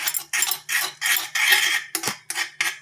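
A spoon scrapes and clinks around a bowl while mixing gram flour paste, in about eight quick, close strokes with short gaps between them.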